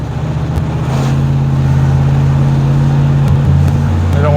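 A 1987 Pontiac Firebird Formula with a 350 V8 holds a steady, loud engine drone as it pulls under acceleration, the tone rising slightly and shifting near the end, with no voices over it.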